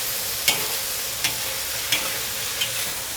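Chow mein noodles stir-fry in a wok over high heat, a steady broadband sizzle broken by four sharp scraping tosses of the spatula, close and moderately loud with no voices.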